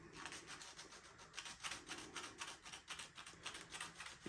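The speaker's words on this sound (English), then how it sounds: "So I'm going to sand it right down to the bare metal" A window frame on a 1978 Trans Am is sanded down to bare metal by hand. Quick, rhythmic rasping strokes repeat steadily at close range.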